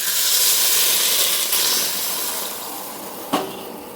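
Water is poured into a pan of drumstick and potato curry, giving a steady hissing rush that slowly fades, with a single sharp clink of a spatula near the end.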